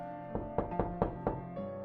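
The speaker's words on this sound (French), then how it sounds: "J'ai frappé une fois," Someone knocks on a front door five times in an even, unhurried rhythm of sharp raps over a steady low tonal background.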